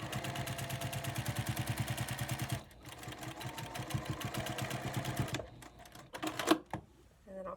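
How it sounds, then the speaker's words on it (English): A sewing machine runs in a fast, steady needle rhythm, stitching quilt binding, then slows and briefly reverses for a back stitch before stopping amid light handling noise. "I'm just going to stitch slightly past where I started and then back stitch."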